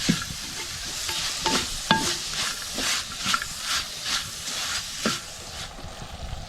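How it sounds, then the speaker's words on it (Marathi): Jaggery melting in a pan over a low gas flame is stirred, giving a steady soft sizzle with repeated scraping strokes of the spoon at an even rhythm, close and moderately loud, with no talking. "हा गुळ असा गॅस कमीच करून फास्ट नाही करायचा आणि हा फिरवून घ्यायचा व्यवस्थित असा बघा आणि जरा वितळवून घ्यायचा"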